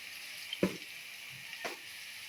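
Ginger paste frying with spices in a pan, a steady faint sizzle with two soft scrapes or stirs partway through, heard alone without voices.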